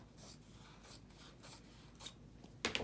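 Scissors snip through quilting fabric being cut in half, a series of faint, soft rasping cuts at a steady rhythm of about two per second, ending with a sharper, brighter final snip; no talking.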